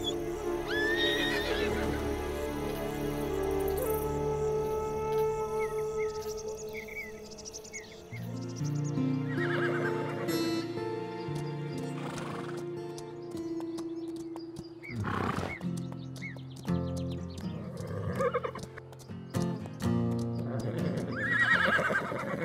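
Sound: horses neighing and running loose

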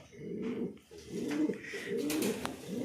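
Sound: pigeons cooing

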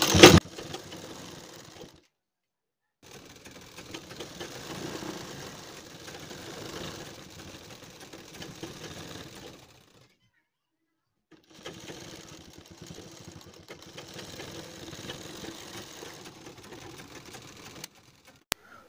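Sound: sewing machine stitching a kurti neckline

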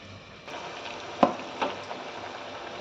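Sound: chana dal vadas frying in hot oil

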